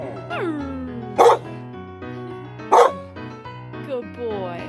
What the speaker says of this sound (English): Are you a howling wolf?